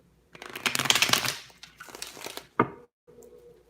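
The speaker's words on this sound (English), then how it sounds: "Let me shuffle these cards for you." Tarot cards being shuffled by hand up close, several bursts of crisp riffling and papery crinkling separated by short pauses, then one sharp snap and a softer final shuffle.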